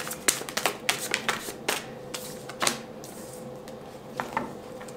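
Tarot cards are shuffled by hand in a quick run of crisp riffles and slaps. The snaps are close and fairly quiet over a soft room background, with no talking.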